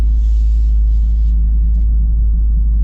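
A 2024 Toyota GR Corolla, set to its rear-biased drive mode, gives a deep, steady engine drone while driving, a loud, constant low rumble with a faint hiss above that fades after a second.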